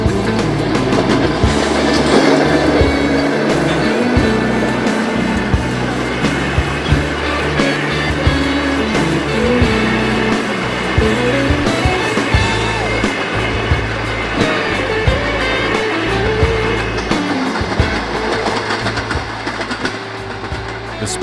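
The Spirit of the Outback diesel passenger train, hauled by multiple 2,400 class diesel units with a ten-wagon passenger consist, rumbles past close by. There is a loud steady engine drone and wheel clatter that holds for twenty seconds.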